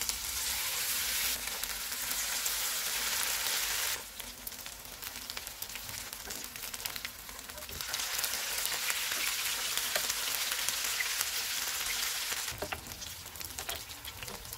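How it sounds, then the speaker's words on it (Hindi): Kebabs frying in hot oil on a low flame, a steady, loud, dense sizzle that dips briefly and swells back up, with no voices. "इस तरह से तैयार करके इनको फ्राई कर लेंगे।"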